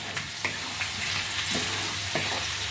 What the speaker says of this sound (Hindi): अब इन सभी को 1 मिनट तक हम भून लेंगे।